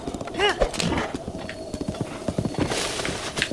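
A horse gallops in Zelda: Breath of the Wild, rapid rhythmic hoofbeats thudding close under a person talking, with a brief whinny-like sound near the start.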